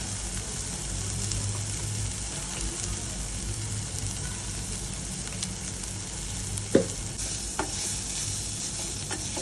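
Gram flour is stirred into an okra curry frying in a pan, with continuous close sizzling and scraping stirs and a couple of sharp clinks of a utensil against the pan.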